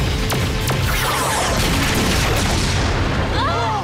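Super Mega Cannon blast effect from a Power Rangers Super Mega Force episode: a loud, dense explosive roar with sharp cracking bursts and swirling energy sounds layered over a heavy low rumble, filling the whole moment.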